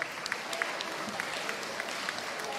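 Light, steady clapping from a small audience at a school house music competition, continuous and fairly soft throughout.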